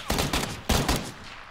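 Video game gunfire in PlayerUnknown's Battlegrounds: two quick bursts of rapid shots, close and loud, separated by a brief gap, with no talk over them.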